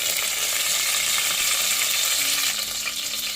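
Curry leaves and mint leaves sizzling in hot oil while cooking a vegetable curry; a steady, bright crackling hiss continues close up with no talking.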